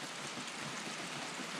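Steady rain falls in a broad, even hiss, soft and continuous, with no voices or other sounds.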